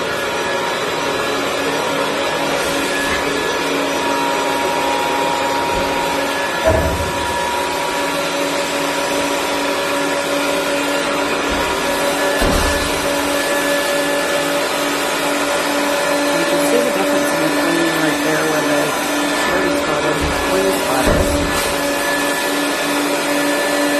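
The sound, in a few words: carpet cleaning machine cleaning a carpet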